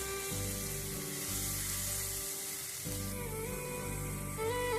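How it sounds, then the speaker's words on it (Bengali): Spice masala being fried in oil for a Bengali egg curry, a continuous soft sizzle close by with occasional stirring, steady and quiet throughout, no talking. "এবার মশলাগুলোকে ভালো করে কষিয়ে নেব তেল ছাড়া পর্যন্ত রান্না হতে দেব"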